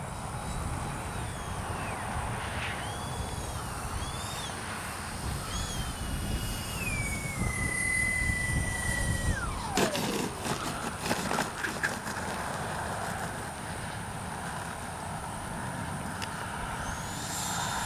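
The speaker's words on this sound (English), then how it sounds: "Definitely an elegant flying plane." An X-FLY J-65 radio-controlled jet airplane flying nearby, a steady turbine whine that shifts and then drops sharply in pitch as it passes, with outdoor wind noise around it.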